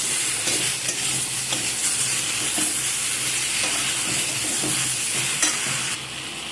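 Spices, mung dal fritters (bora) and ridge gourd being stirred in a hot pan, a steady sizzle with scraping stirs running throughout and easing slightly near the end.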